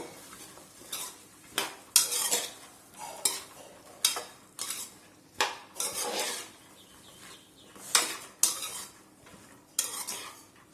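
A spoon scrapes and clatters against a pan while stirring a cauliflower and field bean curry, with repeated sharp strokes about once a second over a faint sizzle.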